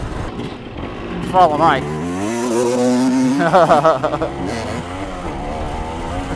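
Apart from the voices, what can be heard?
two-stroke Yamaha DT and Honda TRX 250R riding in woods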